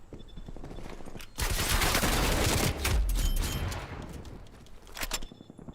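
Gunfire rattles in the video game Call of Duty Cold War, with bursts of rapid automatic shots rising from a quieter start into a loud sustained volley, then tapering into scattered shots.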